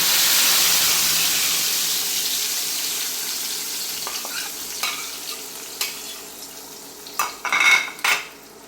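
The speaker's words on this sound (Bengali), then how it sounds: "তেলটা গরম হয়ে গেছে, আমি এখন ফ্রাই প্যানে মশলাগুলো ঢেলে দেব।" Spices poured into hot oil in a frying pan send up a loud burst of sizzling that slowly fades, followed by scattered clinks and scrapes of a utensil stirring against the pan.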